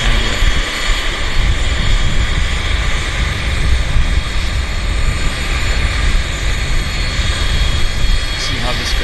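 Avro four-engine jet airliner from the 1980s at Vancouver Airport, a loud, broad continuous engine roar that holds steady throughout, close and dominant.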